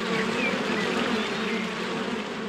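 Bees swarm with a steady, dense buzz throughout a Winnie the Pooh adventure game scene, continuous and fairly loud with no talk over it.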